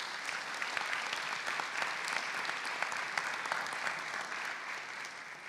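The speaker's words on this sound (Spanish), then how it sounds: "Un fuerte aplauso para ella, por favor." Audience applause at an economics panel forum, a steady mass of clapping from a seated crowd that holds evenly for several seconds at moderate volume, heard from slightly back in the room.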